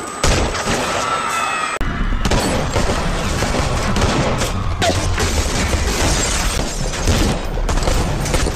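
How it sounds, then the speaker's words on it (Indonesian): Gunfire from a film shootout, a dense, loud fusillade of overlapping shots and booms that carries on almost without a break, with a brief lull near the start. "aksi tembak-tembakan pun terjadi"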